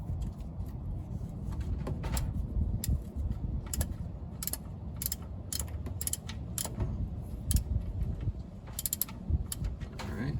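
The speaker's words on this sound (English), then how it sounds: "start undoing that bolt." A ratchet loosens the oil drain bolt on a Ford Focus, giving a stream of quick, quiet clicks in irregular bursts over a low background hum.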